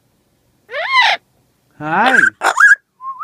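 A pet bird whistles and calls in a few short bursts, close and fairly loud, with a brief word of human speech between the calls.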